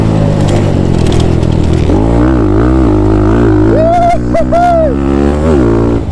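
A Thumpstar TSX140 dirt bike revs loudly and close, its engine note rising and dipping through throttle changes with a brief whine near the end, wind and roar filling the sound throughout.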